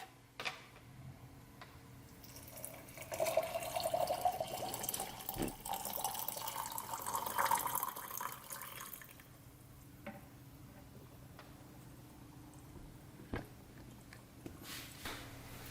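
Hot water pours into coffee in a steady splashing stream for several seconds, then stops, leaving a few faint ticks and clinks in a quiet room.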